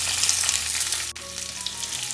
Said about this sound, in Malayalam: സവാള ചേർത്ത് കൊടുത്തതിന് ശേഷം നല്ല രീതിയിൽ നമുക്ക് എല്ലാം കൂടി ഒന്ന് വഴറ്റി കൊടുക്കാം